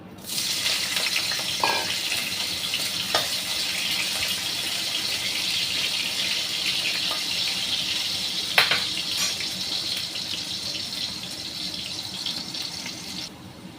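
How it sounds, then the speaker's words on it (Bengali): Potatoes fry in hot oil with a continuous hissing sizzle throughout, broken by a few sharp clicks and pops, and no talking. "এবারে তেলটাতে আমি আলু ভেজে নেব, পটল ভেজে নেব। আলু দিয়ে দিলাম।"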